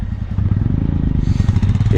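A rented Royal Enfield Classic motorcycle rumbling close by on the high mountain road to Khardung La, with a steady loud engine thump and a slight rise in pitch as it nears.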